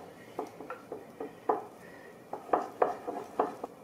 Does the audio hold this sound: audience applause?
no